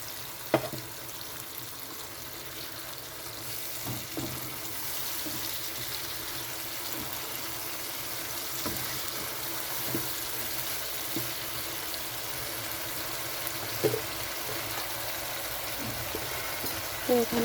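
A spice masala sizzles in a pan as mustard-poppy paste is added for a Bombay duck (lote fish) curry. A soft, continuous frying hiss runs throughout, broken by occasional sharp clicks and taps of stirring.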